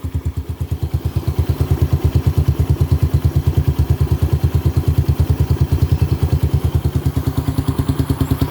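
Raider 150 motorcycle engine idling just after a cold start, with a power pipe exhaust, close and steady with a fast, even chugging thump and rattly clatter throughout.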